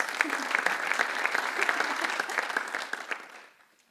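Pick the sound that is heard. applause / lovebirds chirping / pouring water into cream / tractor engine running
applause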